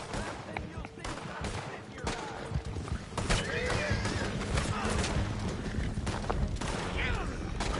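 Mortar fire in Red Dead Online, with a dense stream of booms and gunshots crackling through a busy in-game battle, continuous and fairly loud, with faint voices mixed in.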